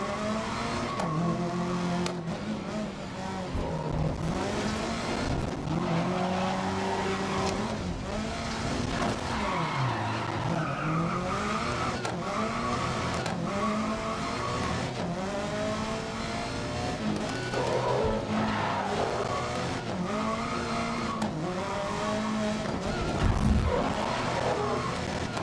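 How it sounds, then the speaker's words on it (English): Race car engine in the video game GRID (2019) revving hard and continuously with rising and falling pitch sweeps, tyres skidding and squealing at intervals, loud and close throughout. "I'm over-revving the fuck out of this."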